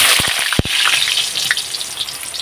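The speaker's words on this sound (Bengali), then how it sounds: "এখন দিয়ে দেব আলু, এই আলুগুলো কিন্তু ভেজে নেব।" Potato pieces frying in hot oil in a home kitchen, a loud dense sizzle with a few sharp low thumps early on as the pieces go in, then a steady crackle.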